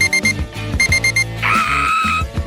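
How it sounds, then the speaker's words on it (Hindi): An alarm clock rings close by in a steady electronic pattern of repeated beeps, then shifts into one sustained bright tone toward the end, loud and unaccompanied by talk. "एक अलार्म जो मुझे नहीं चाहिए था।"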